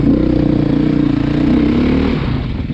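A 2020 Beta big-bore dual sport motorcycle engine runs loud and close, a steady throaty drone that holds nearly three seconds before the pitch shifts and eases slightly near the end.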